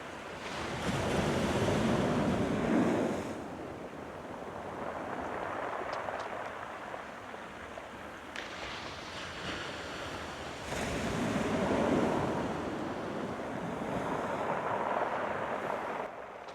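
Irish Sea waves surging up a rocky shore and pulling back over the stones, heard close: repeated swells of rushing surf with a rattling wash of rocks as the water recedes, rising and falling in loudness.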